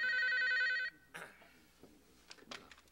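An office telephone rings with a bright electronic trill that stops abruptly, followed by faint rustling and a quiet click, in a 1991 Korean TV drama.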